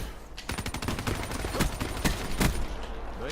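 Rapid bursts of gunfire from the Argus in Call of Duty: Black Ops III, a series of loud, sharp shots firing in quick succession with a few spaced single cracks, close and dominant.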